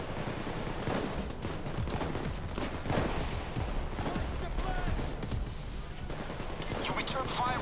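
Dense, continuous gunfire crackles during a Payday 2 heist shootout, with overlapping rapid bursts and distant shots forming a steady barrage.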